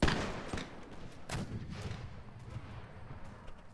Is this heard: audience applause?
no